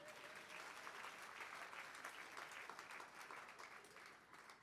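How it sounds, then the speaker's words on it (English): A church congregation claps together during an Easter service, a dense, steady wash of many hands that holds for several seconds before easing slightly at the end. "Clap for yourself now."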